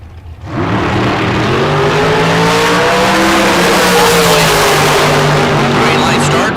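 A bracket racing car launches hard off the line at the green light, its engine revs climbing and rising in pitch into a loud, sustained roar, with an announcer talking over it.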